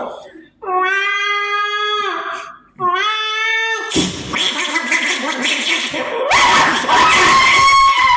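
A sound-effects artist on stage mimics a dog howling and whining among fighting cats with long, pitched wails, followed by a loud burst of mixed barking and cat-like screeching, all close and vocal.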